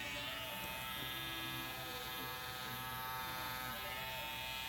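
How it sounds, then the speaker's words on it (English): An electric hair trimmer buzzing while cutting a crop top fade, its steady high-pitched motor hum continuous and close, with small shifts in tone as it moves through the hair. "now I'm going to use my trimmer upside down."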